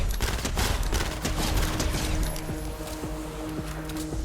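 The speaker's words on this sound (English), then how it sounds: "Just get some easy SMG damage dealt." Rapid SMG gunfire in Fortnite Save the World, a dense, loud burst of fast shots running through most of the stretch alongside busy game effects and tonal chimes.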